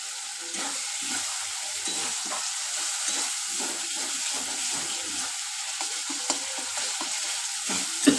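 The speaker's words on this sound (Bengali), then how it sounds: "আমি মশলার সাথেই একটু নাড়িয়ে নেব।" Dry-roasted moong dal being stirred with spices in a pan for khichdi, a steady low sizzle under repeated scraping and shuffling strokes, close and even throughout.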